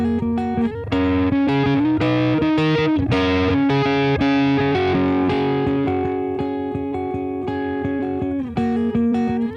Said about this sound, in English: we have the distortion or the overdrive pedal, which is called Pathos